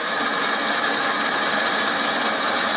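A plastic welding tool runs in a workshop during the build of a koi pond filter box, giving a loud, steady hiss-like blowing roar with no break and no speech.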